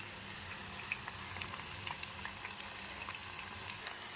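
Chicken pakoda frying in hot oil, a dense continuous sizzle and bubbling heard up close with small crackling pops throughout and no voices.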